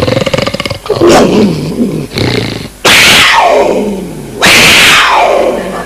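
A voice imitates a panther, with guttural snarls that build into two loud, drawn-out roars close to the listener, each falling off slowly.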